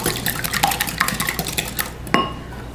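Cracked eggs are whisked in a bowl for lemon bars, with quick, close metal-on-bowl clinks and stirring taps over a low background hum, ending in a sharper clink.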